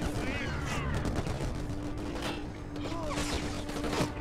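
Gunfire rattles in Black on PS2, scattered shots and short bursts over a steady mechanical hum, moderately loud and spread through the clip, with no talk.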